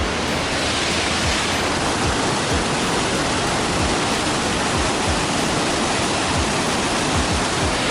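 Water rushing loudly at the bottom of Tiger Leaping Gorge in China, heard from the river's edge as a constant roaring broadband surge with no speech.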